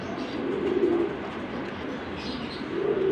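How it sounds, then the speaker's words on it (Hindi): Pigeons, including a Teddy breed, coo softly in a low rolling murmur at close range, two clear coo phrases rising from a steady hum of other birds and background noise, with no talking. "जी भाईजान ये एक और कबूतर का शौक करें माशाल्लाह"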